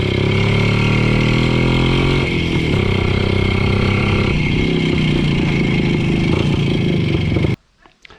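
A motorcycle engine runs steadily and loudly up close, its rumble shifting slightly in pitch, then cuts off abruptly near the end.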